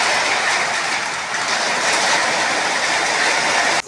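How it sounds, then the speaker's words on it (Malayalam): A train rolls past during rain, a loud continuous rumble and wash of noise with wheel clatter blending into the downpour, cutting off abruptly near the end. "അപ്പോൾ ട്രെയിനിൻ്റെ സൗണ്ട് ഇടയിൽ വരുന്നുണ്ട് മഴയുടെ കൂടെ."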